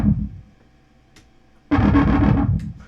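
An Arturia MiniFreak synth plays through a Pigtone distortion pedal. A quieter note fades out, then a loud, dense, buzzing distorted tone enters and holds for over a second, close and without talk.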